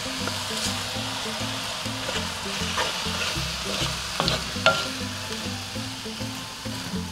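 Spices stirred into a pan of frying chicken curry: a spoon scrapes in a steady rhythm over a continuous close sizzle, with no voices.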